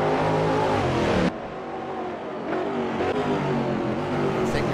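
A Full-Time Sports race car roars past during a circuit race, its engine loud and close at first, then dropping away as another car's engine note rises and sweeps by.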